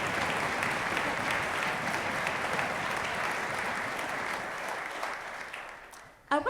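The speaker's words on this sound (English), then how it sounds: "I'd like to give them a round of applause" A school audience claps for orchestra teachers at a county orchestra concert, a dense, steady round of applause that fills the hall, then fades and cuts off near the end.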